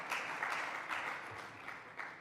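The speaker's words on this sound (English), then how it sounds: "A round of applause for her as she comes." A conference audience at a Pan African gathering claps for a speaker coming to the stage, a brief, fairly faint patter of applause lasting about two seconds.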